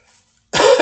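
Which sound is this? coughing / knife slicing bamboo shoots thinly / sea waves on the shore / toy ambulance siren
coughing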